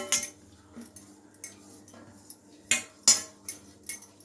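A metal plate being greased with ghee, heard as scattered bright clinks and scrapes of a spoon against the plate, a handful of sharp taps close by in an otherwise quiet kitchen.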